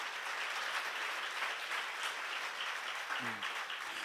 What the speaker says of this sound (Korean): 깨달은 사람만 박수 한번 쳐봐요